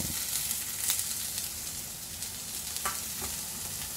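Onion sautéing in a pan as the first step of a Filipino ginisang halaan (clam) dish, a steady, close frying sizzle with faint stirring scrapes running throughout and no talk.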